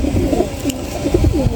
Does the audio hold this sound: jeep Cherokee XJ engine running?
no